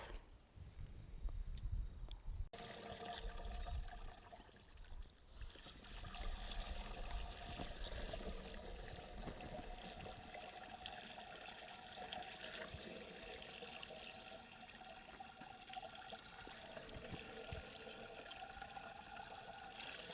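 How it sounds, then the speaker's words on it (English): Water pouring into a knapsack sprayer on a potato farm in Kenya, a steady trickling, splashing flow that keeps up throughout, quiet and close, with a brief thump near the start. "we are going to add the knapsack with water to the brim"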